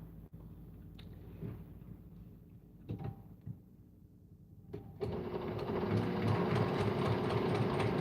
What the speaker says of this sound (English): Sewing on the sashing.